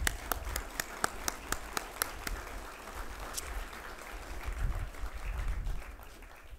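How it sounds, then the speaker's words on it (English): Scattered claps from an outdoor crowd at a college softball and baseball field dedication, sharp separate hand claps early that thin into a looser, softer patter with background noise. "So one last round of applause."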